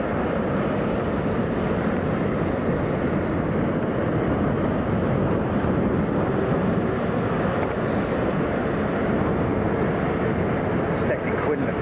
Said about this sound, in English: Stephen Quinlan, those gusts sound insane.